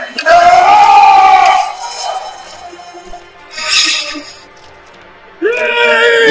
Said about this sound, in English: Suddenly, that's the sound of battle.